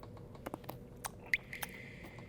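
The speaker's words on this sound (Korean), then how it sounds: "요거를 한번 드셔보세요. 네뷸라 토마토라고" A crisp Nebula tomato bitten and chewed raw, giving a few sharp, close crunches followed by soft, moist chewing in a quiet room.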